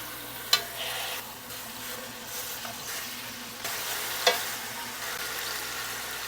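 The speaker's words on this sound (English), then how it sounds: "I hear the sizzling of the chicken in the pan" Chicken sears quietly in hot oil in a pan, a soft steady crackle broken by a couple of sharp clicks.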